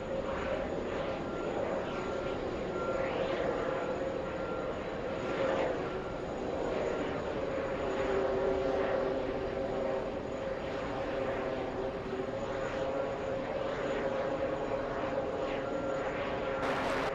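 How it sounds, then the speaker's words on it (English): A Lufthansa Airbus A340-300 taxis toward the runway at Los Angeles, its engines giving a steady, moderately loud jet whine and rumble that holds throughout. "looks like we have the Lufthansa flight, the A340-300, taxiing to the runway"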